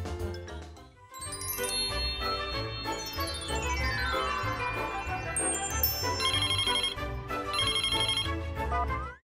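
A musical telephone ringtone plays nearby, a bright tinkling melody with chiming tones over a steady beat, continuous for several seconds before cutting off abruptly.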